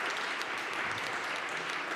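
An audience claps steadily through a dense wash of applause at an awards ceremony, the Forum Habiter Durable 2023 trophy presentation, with no voices rising above it.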